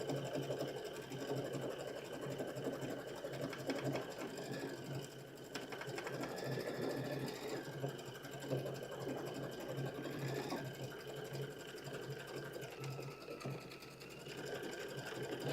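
Embroidery sewing machine stitching a placement line, a steady fast mechanical hum and needle chatter running unbroken for about fifteen seconds, close and even, with faint talk in the background.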